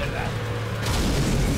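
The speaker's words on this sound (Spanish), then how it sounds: "Explosión controlada." A controlled explosion in the Hitman Absolution game, a deep rumbling boom that swells midway and fills the short stretch, with a voice talking over it.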